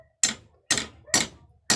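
Four sharp metallic taps of a hammer on an electric fan shaft ring out at an even, unhurried pace, each one close and crisp with a short ringing decay.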